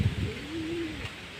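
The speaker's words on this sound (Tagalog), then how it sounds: "Diyan yung tambayan ng mga ibon natin eh." Pigeons coo softly at their roost, a single low drawn-out call rising and falling near the microphone, with a few faint flutters at the start and no talk.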